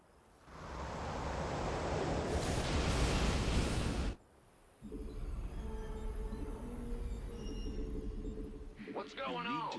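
A train rumbles in the game Oblivion Express: a heavy, dense roar swells for a few seconds and then cuts off sharply, followed by lighter mechanical noise and a brief voice.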